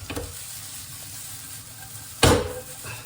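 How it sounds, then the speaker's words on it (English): Food frying in a wok sizzles steadily at moderate level, with a sharp louder burst of sizzle or a toss near the end and no talking. "So those are just gonna fry around in there."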